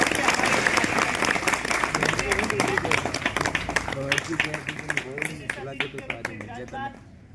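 Crowd applause welcomes a guest at a village school's Constitution Day celebration, starting busy and loud, then thinning into scattered individual claps toward the end, with some voices mixed in.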